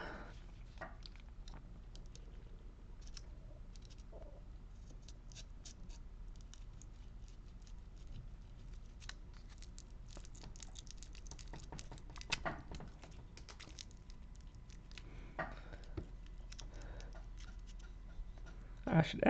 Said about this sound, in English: I want to start cutting some of this foil out of here.